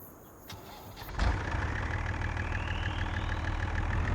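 A tractor engine in Farming Simulator 25 starts up and settles into a steady, loud low idle rumble that runs continuously to the end, with no talking.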